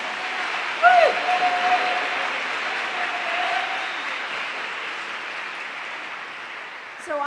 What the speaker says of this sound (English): Give yourselves a wonderful welcome applause.